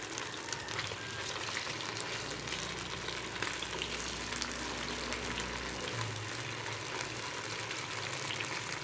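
Vanjaram (seer) fish frying in a pan, a steady loud sizzle of hot oil that crackles continuously, with a low rumbling undertone partway through.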